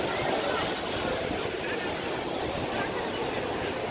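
Sea waves at the shore make a faint, steady wash of surf with no breaks, mixed with wind noise and without clear speech.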